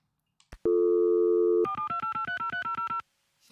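A telephone busy signal from the Last Call BBS video game: one long steady tone, then a string of rapid, evenly spaced beeps in alternating pitches, clean and isolated, ending in sudden silence.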